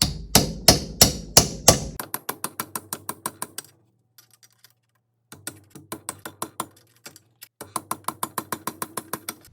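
Rapid bursts of sharp metallic taps from a hammer striking a nail set in a steady rhythm, with a short pause partway through before the tapping resumes, close and fairly loud; installing a Mercruiser lower unit bearing carrier.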